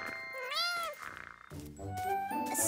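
A kitten in an animated children's show gives a clear rising and falling meow, then more cartoon cat vocal sounds follow with background music.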